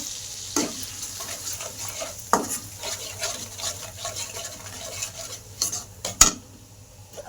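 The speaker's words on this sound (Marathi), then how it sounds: "त्याच्यामध्ये मटण मसाला, एवढंचा आंबारी, लाल तिखट आणि हळद मिक्स करून चांगला मसाला तळून घेते" Mutton masala, red chili and turmeric frying in hot oil, a steady close sizzle broken by a few sharp scrapes and clinks of a spoon against the pan.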